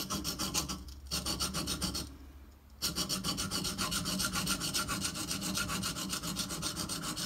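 Steady rasping strokes of a Microtech Socom Elite knife blade in CTS-204P steel being ground on a sharpening stone, close and continuous with a brief pause near the start and rhythmic back-and-forth texture.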